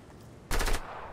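Single sniper shot in the video game Fortnite, a short sharp burst of gunfire striking once at moderate loudness, alone without speech.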